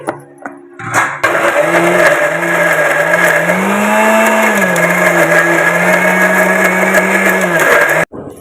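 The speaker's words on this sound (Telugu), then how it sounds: "మనం మిక్సీ వేసుకోవాలి" A kitchen mixer grinder starts up and grinds raw mango with moong dal for chutney. It gives a loud, close motor whine with a wavering pitch for about seven seconds, then cuts off abruptly.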